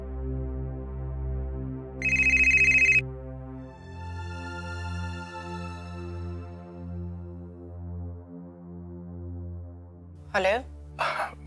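A telephone rings while a call is being placed: a sustained electronic ringback tone and a bright ring burst, with steady background music and two short bursts near the end.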